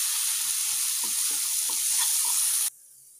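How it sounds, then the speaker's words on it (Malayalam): Salted masala for a prawn roast with small onions sizzles steadily in a pan, with a few soft stirring scrapes, then cuts off abruptly near the end. "നമുക്കൊന്ന് ഇളക്കി മിക്സ് ചെയ്ത് കൊടുക്കാം"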